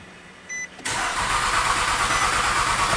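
A Nissan Altima's starter cranks the engine without it catching, a loud steady whirring grind that begins abruptly after a brief click and continues close by for a few seconds.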